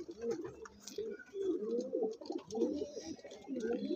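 Close, repeated cooing from Andhra pigeons, a male among them, comes in several rolling bursts over a few seconds with short gaps, steady and fairly loud.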